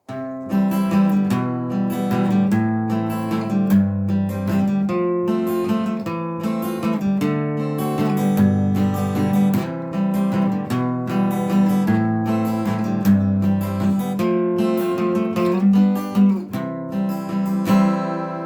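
An acoustic guitar plays a steady progression of strummed chords, full and close, continuing throughout with no talking.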